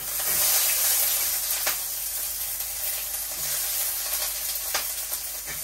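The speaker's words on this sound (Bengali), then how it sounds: "এখন তেলের মধ্যে দিয়ে দিচ্ছি একটা শুকনো মরিচ, আর এখন দিয়ে দিচ্ছি পেঁয়াজ কুচি।" Dried chili and chopped onion sizzle steadily in hot oil in a home kitchen, a dense, continuous frying hiss with faint crackles, close and fairly loud, with no voices.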